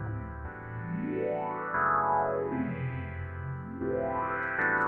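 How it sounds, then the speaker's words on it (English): Random filter sweeps glide up and down over a distorted, effects-heavy synth track made in Ableton 11, repeatedly rising and falling in pitch at a moderate, steady level. "So you can hear the filters being moved."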